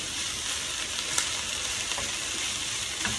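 A steady hiss of rice sizzling in a hot deep frying pan, with faint scraping and a few soft clicks as it is stirred. No voices.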